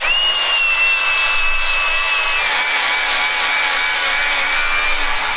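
A power tool grinds metal on a truck 4-link build, a loud continuous high-pitched whine that holds steady and slowly sags in pitch.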